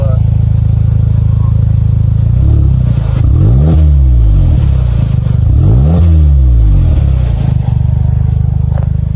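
VW Mk7 GTI engine with the stock exhaust removed revving twice from idle, each rev a loud rising then falling roar over a steady rumbling idle, close by, with no talk.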